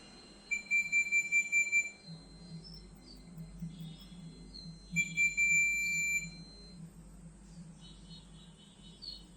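Quieter buzzer setting of a Sigma 22a multimeter gives two fairly soft, high continuous beeps, one early and one midway, over low background hum.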